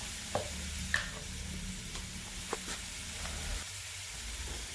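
Onion, curry leaves and tomato fry in oil, giving a soft steady sizzle broken by a few light scrapes of stirring, moderately quiet with a low background hum and no voices.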